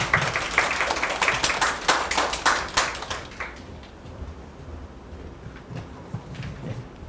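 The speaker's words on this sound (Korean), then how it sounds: "이규영 간사님 큰 박수로 모시겠습니다" An audience claps to welcome a speaker at a customs broker information session, steady hand claps for about three seconds that thin out to scattered taps and quiet room noise.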